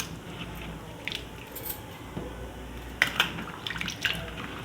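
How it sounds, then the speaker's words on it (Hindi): Sliced potatoes being rinsed in a bowl of water, with soft sloshing and a few brief splashes and drips near the end over a steady low background hiss, no talking. "2-3 पानी से मैं वॉश कर लूँगी इन आलूओं को"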